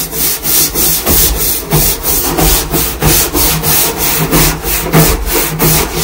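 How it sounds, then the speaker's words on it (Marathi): Hard rhythmic scrubbing of a dirty surface, loud rasping back-and-forth strokes repeating steadily about twice per second, close up and without talking. "घासून घासून क्लीन करून घेणार आहे बघा"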